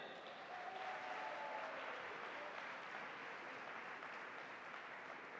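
An audience at a business seminar applauds champions, a dense, sustained wash of many hands clapping at once, steady and fairly distant throughout with no voices over it.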